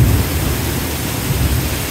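Torrential rain pours down in a thunderstorm while a hummingbird shelters at a feeder, a dense roar of rainfall with low rumbling thunder underneath, loud and continuous with no voices.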